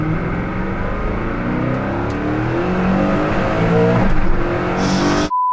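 A Hennessey Venom F5 hypercar pulls hard in second gear, its engine note climbing steadily in pitch as it accelerates, loud and close with wind roar building, then cutting off abruptly near the end.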